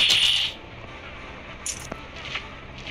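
A coin dropped in the Granny horror game gives a short, bright metallic ring at the start, followed by quieter scrapes, light taps and faint game noises.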